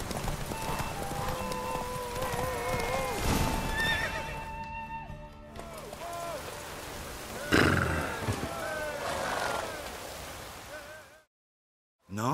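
Horses galloping in a race in the video game The Witcher 3, steady clip-clop of hooves with several whinnies and neighs over it, close and fairly loud, with voices talking at times, before the sound cuts to silence near the end.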